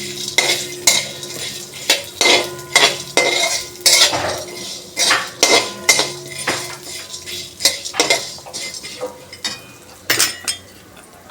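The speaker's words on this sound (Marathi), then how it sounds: "आता हे चांगलं परतून घ्यायचं सर्व मिळून" Cloves, cinnamon and whole spices for garam masala are dry-roasted while being stirred in a pan, giving loud, close metal clinks and scrapes of the spoon against the vessel in an irregular rhythm throughout.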